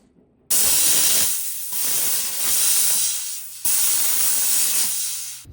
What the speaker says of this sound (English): We're going to steam our ring now.